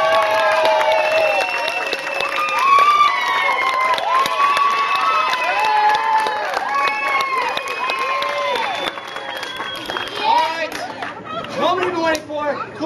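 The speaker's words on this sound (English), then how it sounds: "The longer I hold the pose, the louder you applaud." A crowd at a juggler's show on Disney's Boardwalk claps and cheers steadily, with whoops and children shouting layered over lively chatter, and the sound stays loud and sustained throughout.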